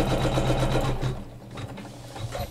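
An embroidery machine stitches to tack down fabric on a quilted pillow, giving a close, steady rapid whirring of stitches that eases slightly toward the end, with no speech.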